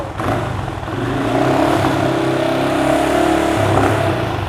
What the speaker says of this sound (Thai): คันนี้ยังคงเป็นท่อเดิมมาฟังเสียงท่อคันนี้กัน